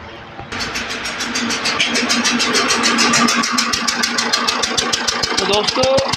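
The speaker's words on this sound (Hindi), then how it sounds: "तो एक बार गाड़ी को स्टार्ट करता हूँ" A Tata Harrier diesel engine with a leaking injector and a misfire on cylinder two cranks and catches, then runs with a loud, uneven rhythmic knocking close by.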